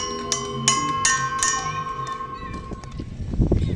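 Several metallic strikes on a bell in an outdoor experience garden, ringing with bright sustained overtones that decay after each of about four quick hits, followed by softer handling sounds and background noise.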